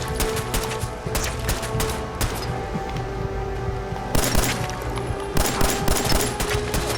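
Rapid bursts of Fallout 4 gunfire crackle close and loud, with repeated volleys of shots and booms over a steady background hum.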